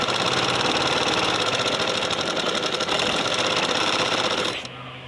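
A sewing machine stitches fabric in a fast, steady mechanical whir with a rapid rattling pulse, loud and close, running without a break until it slows and stops near the end.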